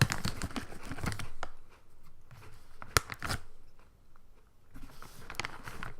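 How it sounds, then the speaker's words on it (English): Crunchy bites of Goldfish cracker s'mores with chocolate, close to the microphone, come in several bursts of crackly crunching and chewing, with a pause in the middle and a final loud flurry. "Might have to edit out my crunching on my microphone"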